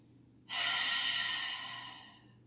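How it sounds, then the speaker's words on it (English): A single deep, slow breath during a gentle hamstring and hip yoga stretch: a close, airy rush of air that starts suddenly and fades gradually over about two seconds, in a quiet room. "take a deep breath in and out right here"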